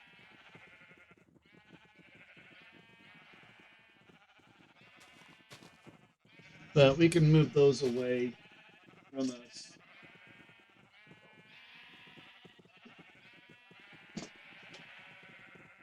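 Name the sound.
sheep bleating in Minecraft video game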